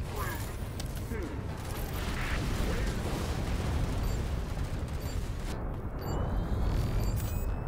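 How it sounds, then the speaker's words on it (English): Explosions and mechanical clanking in the video game Raiders of the Broken Planet, a dense continuous rumble of blasts and machinery that stays loud throughout with no clear gaps. "Those explosions have caused flammable gas leaks."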